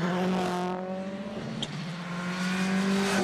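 Jari-Matti Latvala's Ford WRC rally car sits on the start line of an asphalt stage of the 2009 Rally Catalunya. Its engine revs loudly and steadily, with one brief dip in pitch.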